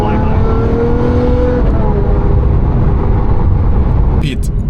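A straight-piped Lamborghini SVJ supercar roars past on a Bangkok street, a loud, sustained engine drone with harmonic tones that settles into steady rumble, with a brief sharp noise near the end.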